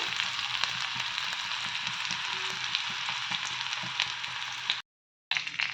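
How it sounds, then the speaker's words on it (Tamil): Steady, gentle sizzling of onions sautéing over low heat in a clay pot, close and continuous, with a brief cut to silence near the end. "அடுப்பை சிம்மில் வச்சு வதக்கிடலாம்"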